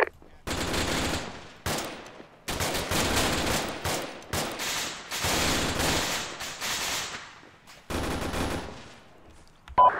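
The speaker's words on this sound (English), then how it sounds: "We're taking heavy fire from that compound." Gunfire in the military shooter game Arma 3 comes as loud bursts of automatic fire, separated by brief gaps and continuing through the whole stretch.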